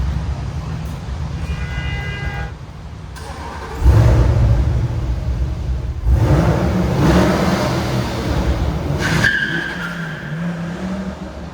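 A Chevrolet C8 Corvette with a 6.2-liter V8 roars loudly, with sharp revving surges and a throaty, rising engine note that repeats in strong bursts.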